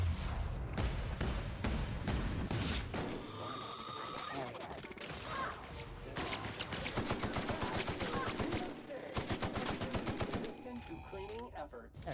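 Rapid bursts of Space AK automatic rifle fire in The Outer Worlds, a sci-fi shooter game, crackle loudly and almost continuously, with crashes and impacts mixed in and some speech-like sounds under the shots.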